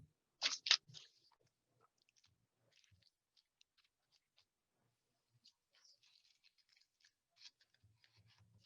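Scissors snip paper for a Christmas wreath craft: a couple of crisp cuts at the start, then scattered faint rustles and small snips in a quiet room.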